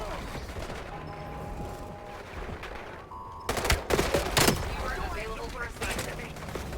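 Assault rifle gunfire in Call of Duty Black Ops 7: a quieter game backdrop gives way to loud, rapid bursts of automatic fire for a few seconds, then tails off, with a voice talking over parts.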